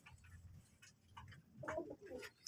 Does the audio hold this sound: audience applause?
no